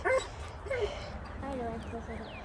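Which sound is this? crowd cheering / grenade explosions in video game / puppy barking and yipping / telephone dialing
puppy barking and yipping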